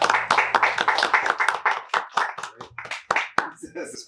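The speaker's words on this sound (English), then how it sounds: "Can we get a round of applause up in here?" A round of applause for a local artist at a small gathering, sparse scattered claps from a few people mixed with talking and voices throughout, uneven and fairly close.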